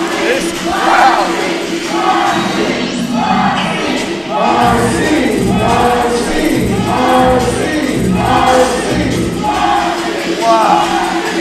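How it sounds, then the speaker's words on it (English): A crowd in a Dominican bar keeps up a steady, loud roar of cheering and shouting for a wrestler during a heavyweight championship match, with rhythmic chant-like swells and voices rising throughout. "Listen to the crowd out here cheering for Marcy Cabrera."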